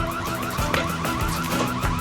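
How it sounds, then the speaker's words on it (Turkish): An alarm rings inside a house during a burglary scene, a loud repeating electronic tone pulsing in a fast regular rhythm for the whole short stretch with no voices. "Alarm çalıyor."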